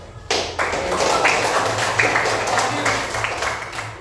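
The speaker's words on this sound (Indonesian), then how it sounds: "Tepuk tangan dulu untuk" A classroom group claps together in a sustained, fairly close burst of applause with dense overlapping claps, lasting a few seconds.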